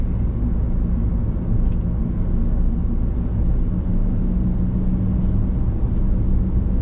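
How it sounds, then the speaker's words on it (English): Constant low road rumble and tire noise from inside a moving Chevrolet Spark, steady and fairly loud with no voices. "A lot of road noise. You hear everything."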